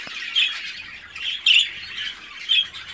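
Japanese pigeons calling in a loft, giving three short, sharp squawks at roughly one-second intervals over a steady, faint background hiss.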